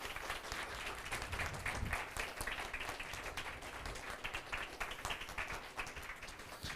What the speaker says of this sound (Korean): 여러분 격려와 또 아쉬움과 그리고 축복의 박수를 함께 보내주세요